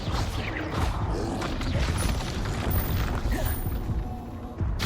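A Confringo spell blast in Hogwarts Legacy sounds as a dense, rumbling explosive roar with crashing impacts. It stays loud and continuous throughout.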